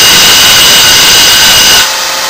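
Grinding a small chamfer onto the end of a half-inch round rod in a machine shop gives a loud, steady abrasive roar of a power grinder that runs continuously, then drops off sharply near the end.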